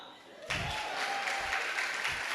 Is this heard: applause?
yes